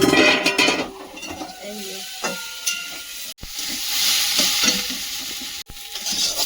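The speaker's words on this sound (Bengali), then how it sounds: "বিট গাজর ভাজা বসিয়েছে" Beetroot and carrot fry in a pan with a continuous hissing sizzle, broken by a series of spatula stirs and scrapes against the metal, close and fairly loud.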